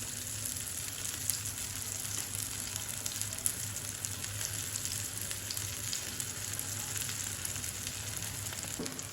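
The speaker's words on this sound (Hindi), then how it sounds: "अब हम साइडों में घी डालेंगे।" Mooli paratha frying in ghee on a hot pan gives a continuous, even sizzle throughout, close and steady with faint crackles.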